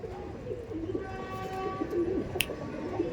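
Pigeons at a breeder's loft in Howrah give soft, low, repeated coos close by, with a faint steady background hum and one sharp brief click near the end.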